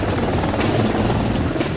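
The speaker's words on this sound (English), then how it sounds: "Nothing gets away from this helicopter." An Apache attack helicopter flies close by, its rotor producing a loud, continuous broadband roar with steady rhythmic thumping throughout.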